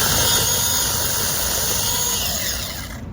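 A powered tree-trimming tool runs loud and close with a steady high-pitched motor whine while it cuts branches, then winds down at the end.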